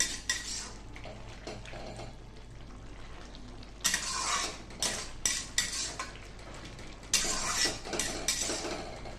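Cabbage curry stirred in a pan, with repeated bursts of a metal utensil scraping and clinking against the pan, close and fairly loud, over a low frying background, no voices.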